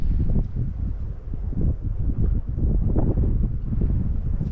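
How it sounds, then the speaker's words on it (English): Gusty wind buffets the microphone outdoors on an exposed beach walk, a low rumbling roar that swells and dips in uneven bursts for a few seconds with no voices. "I'm trying to find a spot out of the wind, but it's proven impossible."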